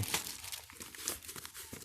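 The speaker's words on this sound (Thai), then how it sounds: "จะฉีก ถุงพลาสติก ตัวนี้นะครับ" A plastic bag is crinkled and torn close up during work on a Honda Wave 110i motorcycle, giving a steady stream of crackling, rustling bursts with no talk.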